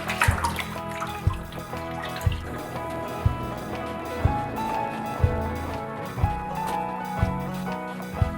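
Water running and splashing in a tub used as a lettuce washing bath on a winter farm, with a steady wash of flow and a regular series of sharp knocks roughly once a second.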